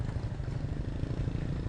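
A Yamaha XSR155 motorcycle idles in neutral on a ride in Bali, its stock engine giving a faint, steady low rumble with quick, even pulses and no other sound.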